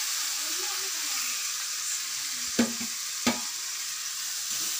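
Chilli powder, coriander powder and garam masala sautéing in oil: a steady hissing sizzle dominates, broken by two sharp spoon scrapes or taps, with a faint voice in the background.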